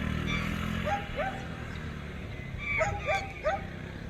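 A dog barks at a postman from a street setting, several short yips and barks spaced through the scene at moderate distance over steady road and traffic noise.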